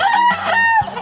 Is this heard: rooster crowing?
yes